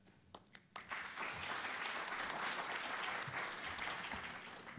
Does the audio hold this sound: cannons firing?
no